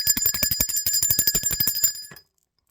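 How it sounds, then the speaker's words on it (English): A bright metal bell rings in a fast, even train of strikes, loud and close with a sharp ringing tone, then stops abruptly into silence after about two seconds. "Let's ring the bell for the pharaoh and the staff king."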